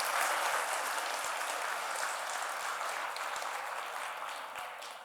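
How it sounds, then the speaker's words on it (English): An audience at an alumni awards ceremony applauds faculty award recipients, a dense, hissing wash of clapping that starts full and gradually fades over several seconds, with no voices. "Please give another round of applause to all of our faculty award recipients"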